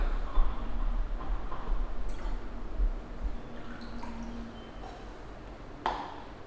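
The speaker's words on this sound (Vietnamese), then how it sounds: "Rót nguyên liệu vào bình lọc." Orange cinnamon iced tea ingredients, including sugar syrup, are poured into a cocktail shaker, giving faint liquid trickles and drips with a few light pings and clinks against the vessel, with no talking.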